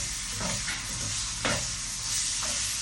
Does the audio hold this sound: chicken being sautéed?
yes